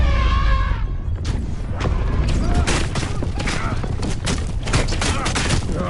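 Arrows fired rapidly from a speeding chariot during a chase in the game Assassin's Creed Origins, a dense run of sharp impacts and whooshes over rumbling wheels, loud and close, with a voice at the start.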